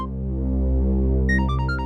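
A steady low hum fills the clip, then a short beeping melodic ringtone starts near the end, repeating quick electronic tones.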